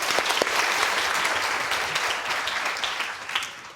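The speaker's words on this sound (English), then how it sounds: "And a big round of applause." Applause from a lecture audience at a Christmas science lecture on food, filling the room evenly and loudly from start to end with a dense clatter of many hands, with no voices over it.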